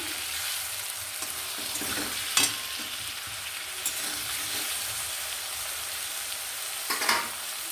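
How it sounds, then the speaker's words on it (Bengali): Prawns and vegetables sizzle steadily in a frying pan while a utensil scrapes and stirs, with occasional sharper clinks against the pan. The sound is close and moderately quiet, and nobody talks. "তার আগে নাড়াচাড়া করে নিচ্ছে মা"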